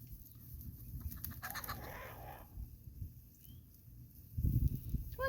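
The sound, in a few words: chickens clucking outside their coop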